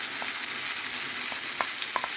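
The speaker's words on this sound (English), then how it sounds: "add the paste into there, which is a nice sizzle" Curry paste sizzles and fries in hot oil with browned onions for a leftover turkey vindaloo, a steady close hiss with a few scattered crackles and pops.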